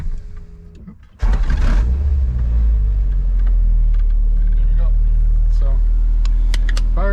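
A Honda Civic EG8 with a Type R engine swap cranks and fires up after a second of quiet, then settles into a loud, steady idle with a deep rumble, while a voice talks briefly over it.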